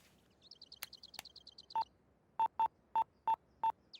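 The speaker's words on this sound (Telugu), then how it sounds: "ఒకసారి ఫోన్ ఇవ్వా, సునీతతో మాట్లాడాలి." A phone keypad gives a quick run of soft high beeps, then six separate dialing tones at a fairly even rhythm, clear and close in a quiet room with no talking.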